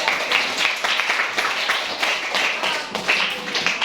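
Classroom clapping from a group of students, loud and close, with uneven bursts of hand claps and a rhythmic, pulsing quality.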